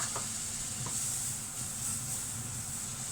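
Butter sizzles in a hot pan for a vegetable, beef and beans dish, giving a steady, close, bright hiss that holds even throughout with no talking.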